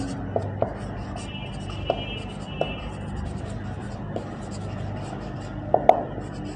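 Pen writing out a math solution by hand on paper, soft continuous scratching with occasional sharper taps, close by under a person's steady talk.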